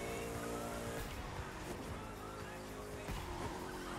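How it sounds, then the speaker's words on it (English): A car races at full speed in The Crew 2, its engine droning loud and steady with a brief tire squeal partway through, all over continuous game background sound. "After this turn, I'm gonna just max out the car."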